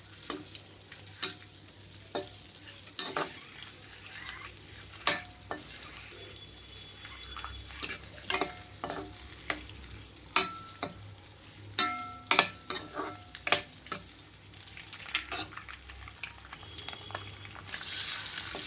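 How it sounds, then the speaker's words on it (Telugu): Eggs fry in a pan over a medium flame for an egg gravy curry, giving a steady soft sizzle broken by repeated sharp clicks and taps of a utensil against the pan, close up and with no talking. "మీడియం ఫ్లేమ్లో ఉంచి రెండు నిమిషాల పాటు ఇలా వేయించుకుంటే చాలు"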